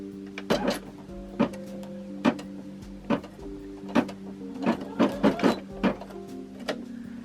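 A home embroidery machine stitching a custom design, a steady motor hum broken by sharp mechanical clacks in an uneven rhythm, close and clear, with no talking.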